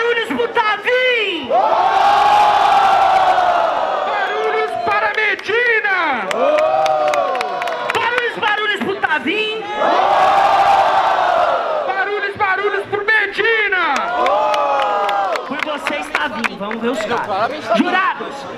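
Loud crowd at a student freestyle rap battle (Batalha dos Estudantes, Guarulhos) roaring, cheering and shouting in sustained waves, with whoops and clapping running continuously throughout.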